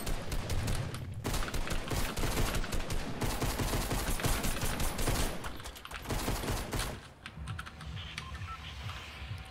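Rapid SMG fire in a video game, continuous close clatter of shots filling most of the clip before easing near the end.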